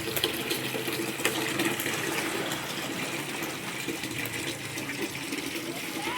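A steady gush of tap water runs into a container nearby in a Konkan village home, constant and unbroken, with a faint mechanical hum underneath.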